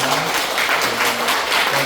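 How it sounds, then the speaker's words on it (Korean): Church congregation applause welcoming a visiting pastor and his wife at a whole-congregation retreat service: steady, dense clapping that fills the room, with faint tonal sound underneath. "두 분을 먼저 환영하는 박수부터 한번 해드릴까요?"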